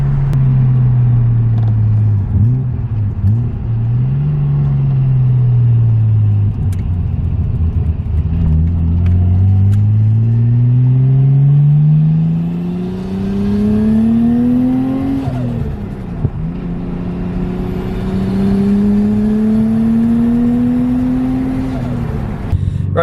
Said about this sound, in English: Listen to this turbo sound.